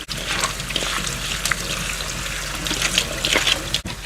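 Kitchen tap water runs and splashes while raw shrimp are rinsed in a sink, a steady close trickle and spatter that continues throughout, with a brief clatter near the end and no talking.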